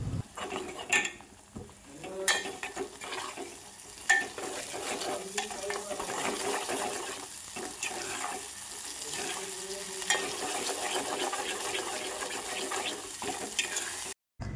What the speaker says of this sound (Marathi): ती पेस्ट यामध्ये टाकायची आहे आणि थोडं परतून घ्यायचं आहे.